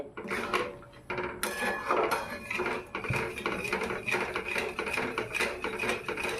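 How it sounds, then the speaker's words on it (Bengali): A spoon stirs sugar into chhana payesh in a pot, giving dense, continuous scraping and clinking of metal on the pot, loud and close, with no voices. "আবারও কিছুক্ষণ একইভাবে নেড়ে চেড়ে নিতে হবে।"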